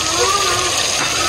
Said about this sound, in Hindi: हम इसमें पानी डाल देंगे